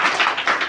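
Short burst of hand clapping from a small group at a children's quiz contest, several quick claps close by in a brief loud patter.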